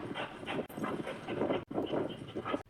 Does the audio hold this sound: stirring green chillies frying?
no